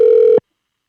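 A telephone call rings out, one steady electronic tone that cuts off sharply partway through and leaves silence.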